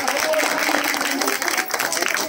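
Audience applause at a neighbourhood election meeting, a dense, steady wash of clapping that fills the whole stretch at close range with a slight dip near the middle.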